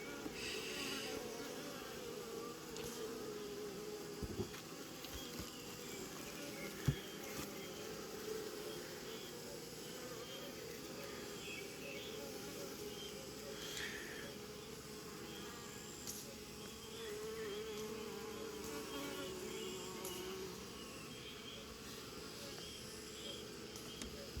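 A steady, dense buzz of many honeybees around a hive on a bee farm, continuous and moderately close throughout, with a few brief knocks and rustles.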